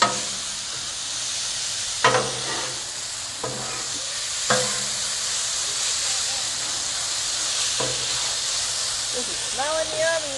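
Hibachi noodles sizzle on a Blackstone griddle under a steady hiss while a spatula folds them, making a few sharp scraping knocks; a brief voice is heard near the end.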